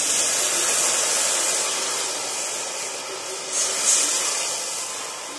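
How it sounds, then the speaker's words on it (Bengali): About a cup of water poured into a hot wok after frying nor fruit for a pickle, giving a steady loud hiss of steam that fades slightly, with one brief sputter near the end. "এই কড়ার মধ্যে 1 কাপের মতো জল দিয়ে দেবো।"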